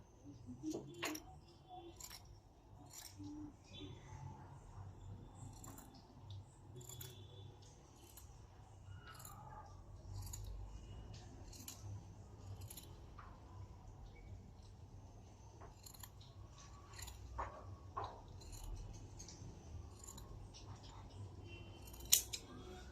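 Fabric being cut with scissors for a dress sleeve at home, a series of quiet crisp snips and blade scrapes spaced irregularly over a faint low room hum, close to the listener, with no voices.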